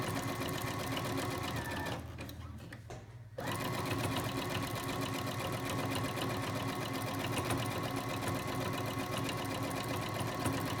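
A sewing machine stitches around the towel insert of a washable sanitary pad, running in a steady fast rhythmic whir that pauses for about a second before resuming at the same pace.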